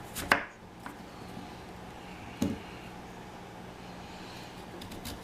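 Knife chopping sweet potatoes into thick steak fries on a cutting board: two distinct cuts, one near the start and another midway, each a short firm thud against a quiet room background.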